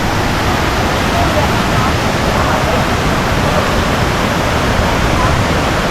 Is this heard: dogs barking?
no